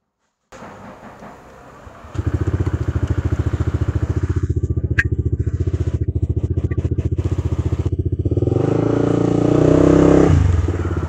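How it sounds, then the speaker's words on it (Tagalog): A Honda ADV 160 scooter fitted with a Yoshimura R77 exhaust starts up and idles with a steady, close throbbing note, then revs higher and pulls away near the end, with no talking. "first ride natin guys ng ating Yoshimura R77 exhaust pipe"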